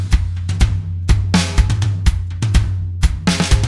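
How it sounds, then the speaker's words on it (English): A processed drum kit plays a punchy groove with tight kicks, snare hits and cymbal splashes in a steady, close, loud rhythm. "when all you wanted were drums that sound like this."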